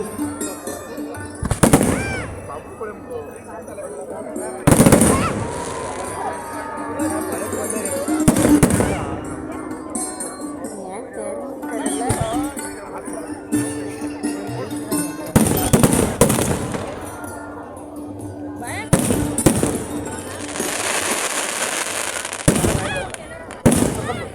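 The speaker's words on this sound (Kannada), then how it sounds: "ಹಸಿರು ಪಟಾಕಿಯ ಒಂದು ಪ್ರದರ್ಶನ ಈ ಒಂದು ಭಾಗದಲ್ಲಿ ಆಗ್ತಾ ಇರುವಂತದ್ದು" Green firecrackers going off at an outdoor festival display in coastal Karnataka, a string of loud sharp bangs spaced a few seconds apart over crowd murmur, some bursts followed by crackling.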